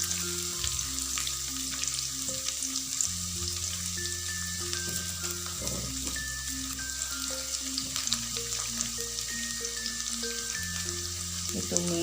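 Sliced garlic sautés in a pan, giving a steady, close sizzle and crackle with occasional stirring, while soft melodic background music plays throughout.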